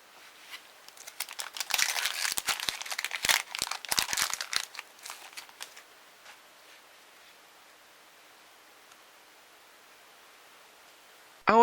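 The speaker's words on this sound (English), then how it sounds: "let's open the pack up and take a look" A Magic: the Gathering Gatecrash booster pack wrapper is torn open, with sharp crinkling and tearing bursts over the first few seconds, then faint rustling that fades to near silence.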